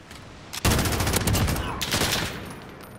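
Rapid MG3 machine gun bursts in Call of Duty Modern Warfare, a loud dense rattle that starts abruptly, sustains for over a second and tails off with a second burst.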